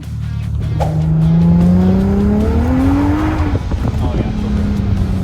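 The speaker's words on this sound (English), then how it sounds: "that's Automatic, I'm drifting" A Nissan Silvia 240SX drifts with a long, loud tire squeal that rises and bends in pitch over the steady engine drone, close by, as someone whoops and talks.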